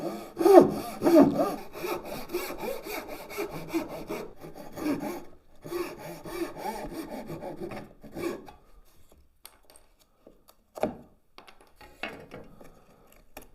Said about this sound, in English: this is where we're going to use the dovetail saw, and we're going to place that directly into that groove